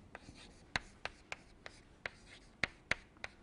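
A pen or marker writing an equation by hand: a series of short, crisp taps and scratches at an uneven pace, close and fairly quiet, with no speech.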